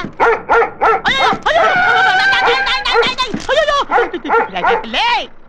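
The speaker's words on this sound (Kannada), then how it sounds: "ಇಲ್ಲಿ ನಾಯಿ ಇರುವ ವಿಷಯ ನನಗೆ ಹೇಳಲ್ವಲ್ಲಪ್ಪ" A dog gives a rapid string of high, yelping barks and whiny yips, close and loud, running almost continuously.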